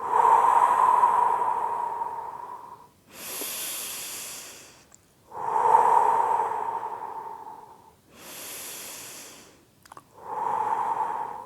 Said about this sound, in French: Respiration en profonde et bruyante.